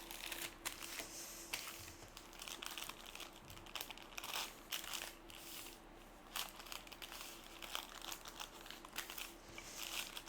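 Parchment paper crinkles and rustles steadily while it is folded into a pocket around a slab of cold butter for sourdough croissants, with dense, close crackling throughout and no voices.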